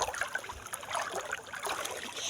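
The Sankri River running knee-deep over rocks, a steady close rush of flowing water with bright trickling and splashing throughout, no voices.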